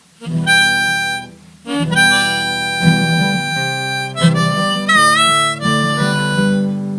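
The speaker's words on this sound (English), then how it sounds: "it starts with kind of a soaring high G, and it's fun if you can slide into it" A harmonica plays a bright melodic phrase from a song, sliding up into a soaring high G, with bends and slides between notes, reedy and close, chordal tones underneath and short breaths between phrases.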